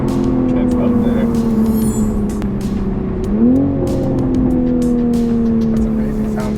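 A stock 2020 Toyota Supra A90 engine, fitted with a plug-in power tune and a lightweight pulley, revs and pulls steadily close by, its tone climbing midway, while people talk over it.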